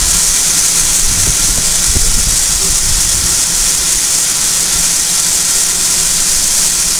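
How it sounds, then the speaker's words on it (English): Steam locomotive on the North Norfolk Railway releasing a sustained, loud hiss of steam that fills the whole stretch evenly, with low rumbling underneath and no voices. "Whoa, we missed a bit of steam there."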